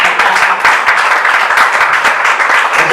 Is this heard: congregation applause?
yes